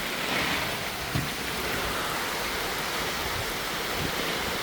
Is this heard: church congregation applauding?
no